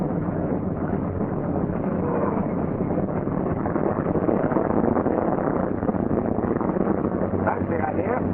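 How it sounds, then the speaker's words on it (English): Steady, loud engine roar with wind-like rumble throughout, a troop carrier aircraft's propeller engine starting up and running continuously. "As engine begins to fire, retard throttle and return mixture control to auto rich"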